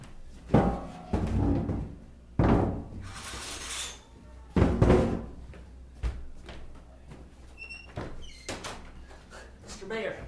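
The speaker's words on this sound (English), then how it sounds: "but he's knocking persistently" Persistent knocking on a bolt-locked door during a live stage comedy performance, several loud sharp knocks in bursts amid voices and audience noise.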